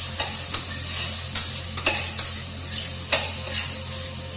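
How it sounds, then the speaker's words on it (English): A spatula stirs tomatoes cooked down with turmeric and garam masala in a frying pan, with scraping strokes at an irregular rhythm over a steady close sizzle of frying. "Give it a mix."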